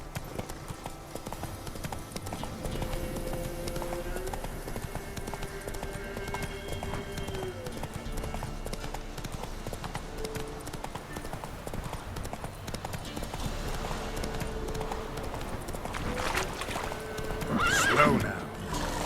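A horse in The Witcher 3 galloping with rapid rhythmic clip-clop hoofbeats throughout, a neigh swelling loudly near the end, set over game music with a voice speaking briefly.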